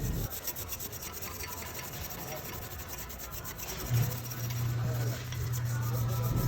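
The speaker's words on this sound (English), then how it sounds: "I'm going to use a piece of Scotch-Brite to finish cleaning this housing up" Scotch-Brite pad scrubs the rear axle housing of a 2023 Ford F-150 clean, a steady close rasping rub that continues throughout and grows slightly louder and denser toward the end.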